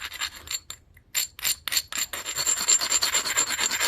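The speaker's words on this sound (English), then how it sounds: "Go ahead and lightly file it. So this file is really abrasive" An abrasive hand file rasps across a piece of molded glass in short, close strokes, first in separate bursts with pauses between them and then in a quicker, nearly continuous scraping.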